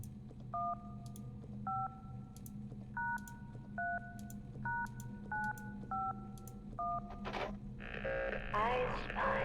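Telephone keypad dialing tones from the horror video game Luto: a series of eight steady two-tone beeps at an even pace over a low background hum, ending in a brief burst of noisy game sound.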